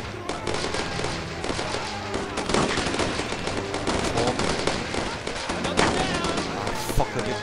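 Heavy gunfire rattles through a modded Brothers In Arms: Road to Hill 30 battle, with dense overlapping shots and bursts going on continuously while voices shout over the din.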